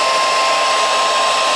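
A hot air blower heating resin casting molds gives a loud, steady, close whooshing roar with an even high whine, running unbroken with no other sound.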